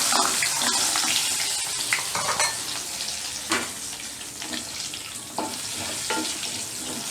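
Lentil bori dumplings rubbed with salt and turmeric fry in hot oil, giving a steady close sizzle with bubbling crackle and a few sharper pops and stirring scrapes throughout.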